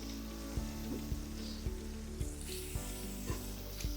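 Steady sizzling of spice tempering in hot oil for okra huli, with a few sharp pops and clacks of a utensil at regular intervals, close by and fairly loud.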